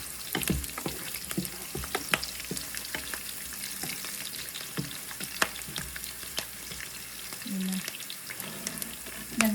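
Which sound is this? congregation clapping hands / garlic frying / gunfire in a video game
garlic frying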